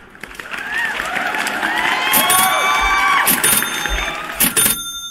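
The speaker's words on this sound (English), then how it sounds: "Let me give him that round of applause." A canned round-of-applause effect: a crowd cheers, whoops and claps, building to a loud, lively swell with shrill cries and sharp accents before cutting off.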